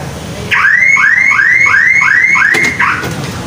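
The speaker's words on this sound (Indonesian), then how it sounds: "Jadi ini pemasangan alarm di mobil Daihatsu Xenia ya." Car alarm on a Daihatsu Xenia sounding a loud, fast repeating siren of rising warbling chirps, about six cycles in a steady rhythm, heard close and alone.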